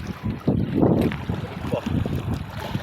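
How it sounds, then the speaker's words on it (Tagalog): Strong wind buffets a fishing boat on the water, a gusty, rumbling roar against the microphone that swells and eases over a few seconds, fairly loud and close. "Lakas ng hangin."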